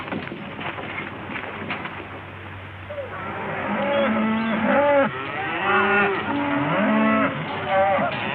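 Cattle moo repeatedly and loudly at a western ranch with a chuck wagon, several drawn-out, overlapping lowing calls rising from about three seconds in and continuing to the end, with no speech.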